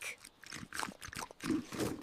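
A cartoon pig oinks, its grunts voiced by a person imitating the animal: a few short, nasal snorting bursts over about two seconds, fairly close and moderately loud.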